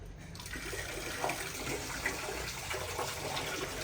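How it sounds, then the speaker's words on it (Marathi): Water runs and splashes steadily over the outside of an object being rinsed, a faint continuous gushing with occasional small splashes, close and without talk. "आतमध्ये पाणी ओतू नको बरं का पूजा फक्त बाहेरनं त्याला वॉश करा"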